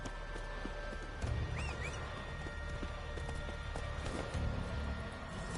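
Hoofbeats of Roach, the horse from The Witcher 3, galloping at a steady clip-clop rhythm in a game scene, with a brief whinny and ambient game sounds underneath.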